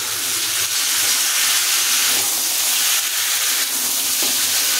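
Drumstick stems and eggplant tossed into a sizzling, well-fried spice paste for a fish and vegetable curry. A loud, steady hiss and crackle of frying runs throughout, with no talking.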